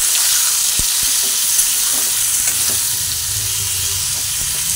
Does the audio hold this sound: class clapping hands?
no